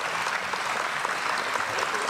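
A debate audience applauding, a dense steady patter of many hands clapping at moderate distance for the full stretch.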